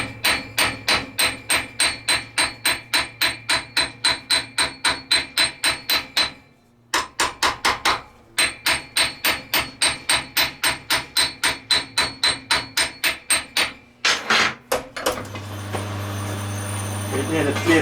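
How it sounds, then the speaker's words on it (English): Rapid, ringing steel plunging hammer strikes flanging copper boiler plate, steady rhythmic bursts with two short pauses, then a final louder mechanical burst. "I'm using a steel plunging hammer."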